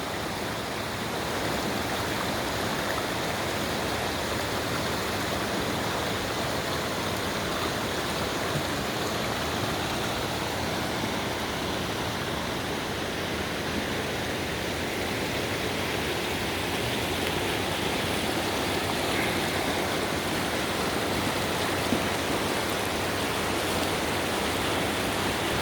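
Hanakapi'ai Falls on Kauai, heard from the trail, gives a continuous, even rushing roar of falling water that fills the whole stretch, with no voices.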